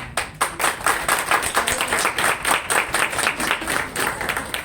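A crowd at a Delhi poetry gathering (kavi sammelan) claps vigorously, producing loud, energetic applause with distinct rhythmic hand claps pulsing throughout nearly five seconds, close and full.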